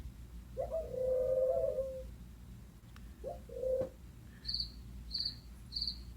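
Crickets' high, brief chirps repeat near the end of a relaxation app's sound sample, following a couple of soft, low cooing calls over a quiet, hissy background.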